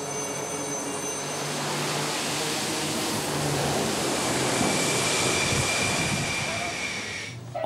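A loud, steady jet roar fills the air, swelling slightly and then easing off as a Hawkeye aircraft launches from the carrier Charles de Gaulle at sea and pulls away.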